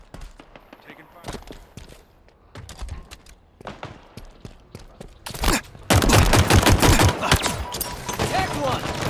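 Video game gunfire on the Bazaar map: scattered single shots and short bursts at first, building after about six seconds into dense, loud, sustained automatic fire.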